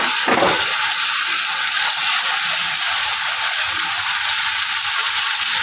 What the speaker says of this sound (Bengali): হাতা দিয়ে একটু চেপে চেপে মিশিয়ে নিতে হবে, তাহলে গ্রেভিটা বেশ ভালো আসবে